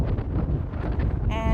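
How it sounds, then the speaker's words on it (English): Wind buffeting the microphone at the coastal bluffs of Estero Bluffs State Park, a loud low-frequency rumble that gusts throughout a short stretch. "Definitely not hot today, but it is windy."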